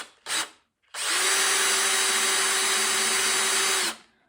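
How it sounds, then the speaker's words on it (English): A short whir, a brief pause, then a loud power drill spins steadily for about three seconds into a ukulele neck, drilling a strap button hole, before stopping. "and you begin to drill."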